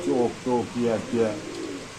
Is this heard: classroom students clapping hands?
no